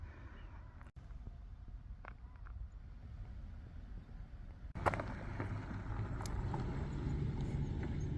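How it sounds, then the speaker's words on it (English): Cars driving past on a road near a desert hiking trail outside a city, a low steady rumble with wind across the microphone, swelling louder toward the end as a vehicle comes closer. "I wanted those cars to pass."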